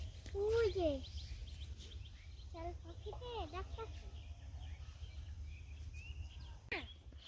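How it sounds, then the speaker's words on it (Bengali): Outdoors, a bird repeats short whistled chirps in a few scattered phrases. The calls are fairly faint over a steady low rumble. "পাখিতে আবার ডাকে"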